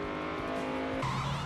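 A Chevy race car at Talladega revs hard back onto the throttle, a loud sustained engine tone that jumps sharply in pitch partway through, with no speech.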